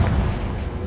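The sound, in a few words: Confringo blasting spell explosion, video game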